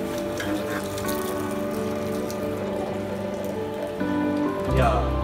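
A sugarcane juice machine runs at high speed with a steady mechanical whir, while juice splashes and trickles into a filling jug. Near the end the sound thickens and deepens.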